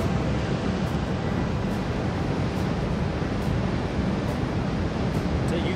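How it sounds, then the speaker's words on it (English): Water pours through the spillway gates of the Morris Sheppard Dam at Possum Kingdom Lake, a loud, continuous broadband roar and rush that holds steady throughout. "You can see the sheer volume of water this dam can release."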